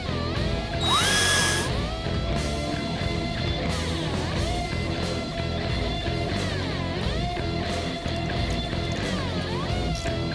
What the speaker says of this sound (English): Now we're going to drill pilot holes to mount our bracket.